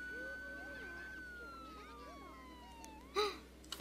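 A police siren sounding as a car arrives in The Sims 2, a single wailing tone sliding slowly downward for about three seconds at moderate level, then cut off by a short burst of other sound.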